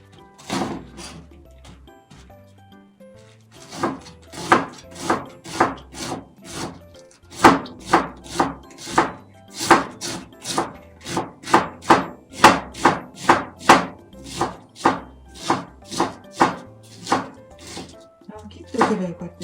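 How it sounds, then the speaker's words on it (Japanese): A knife chops repeatedly through cabbage onto a board, a quick run of crisp, crunchy strokes in an uneven rhythm, loud and close. "キャベツ切るだけですよ"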